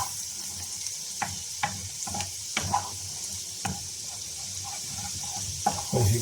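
Sprats frying in a pan on an outdoor cooking setup give a steady soft sizzle, broken by a few sharp clicks and pops and some stirring scrapes, with a louder rattle near the end.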